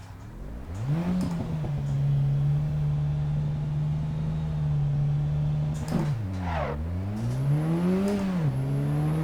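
A steady racing car engine drone in the video game Assetto Corsa EVO holds a constant pitch, then dips and climbs again as it revs through gear changes, fairly close and unaccompanied by talk.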